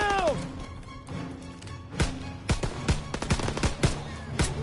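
Gunfire in the World War II shooter Call of Duty: WW2: sharp, close rifle shots fired singly and in quick pairs, with a shouted voice at the start.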